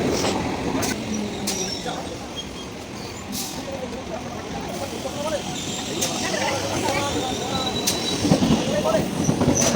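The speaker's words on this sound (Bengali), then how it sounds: "ওই ট্রেন আসছে, দেখো, আবার এই পাশে ট্রেন চলে আসছে।" A local train rolls into a station platform with rising rumble, clattering wheels and sharp metallic clanks, close and loud, while people nearby talk over it.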